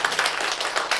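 An audience claps hands at a lecture on regenerative medicine, a short burst of several loud, quick claps from many people close by.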